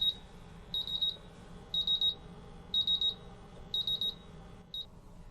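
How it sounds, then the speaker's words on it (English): A MultiRAE gas detector's buzzer alarm beeps in repeated bursts during a bump test, each a rapid high-pitched warble, evenly spaced about once a second, fairly faint against a quiet background. "I can hear the buzzer"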